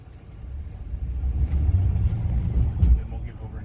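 Road noise inside a Tesla Model X on 22-inch wheels, a low continuous tyre and cabin rumble that rises and holds steady while driving, with voices talking faintly over it.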